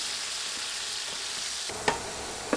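Potatoes frying in hot oil for a fish curry, a steady quiet sizzle with a couple of sharp scraping clinks as they are stirred in the pan.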